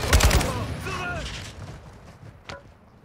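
Gunfire in Call of Duty: Warzone 2.0, a burst of loud shots at the start, then fading with a lone crack near the end, while players talk over it.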